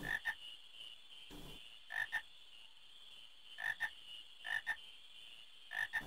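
Frogs croaking in Final Fantasy 9, repeated paired croaks in a steady rhythm, five pairs spaced about every second and a half over a quiet ambient backdrop, with no voices.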